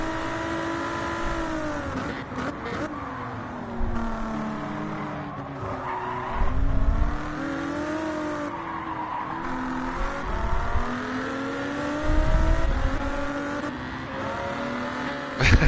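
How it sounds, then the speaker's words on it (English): A race car engine in a video game roars and revs continuously, pitch rising and falling through gear changes, with occasional tire squeals and bursts of louder acceleration. "Every time it's driving in close proximity and you can hear the engine, that car sounds awesome."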